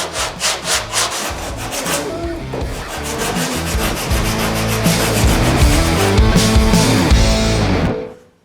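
Hand sanding of body filler on a car roof with 120 grit paper: rapid rhythmic rasping strokes, close and loud, merging into continuous scrubbing before stopping abruptly.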